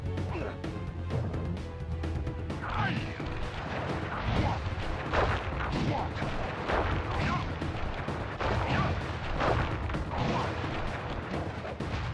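The palms of thunder attack from the Sly Cooper video game, a long run of loud, rumbling, blast-like impacts and crashes pounding steadily for many seconds with little talk.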